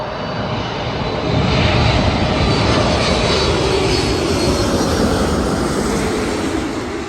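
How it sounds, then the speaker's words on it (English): Korean Air Boeing 747-8 passenger jet flying past at LAX, a loud, broad engine roar that swells after the first second and holds steady with heavy rumble, no voices. "That was the Korean Air passenger 747-8."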